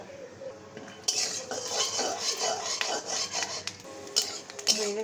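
Peanuts in a little oil in a wok are stirred and scraped with a utensil, giving repeated metallic scrapes and rattling clinks over a faint background hiss.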